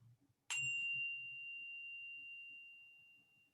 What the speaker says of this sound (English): Now ring the bell once more.